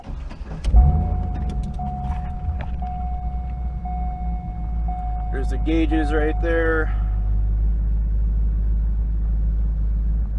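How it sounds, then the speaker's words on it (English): A car engine drones steadily with low road rumble while driving, someone talking over it and a brief high chime sounding partway through. "I actually enjoy the art of driving, listening to the car."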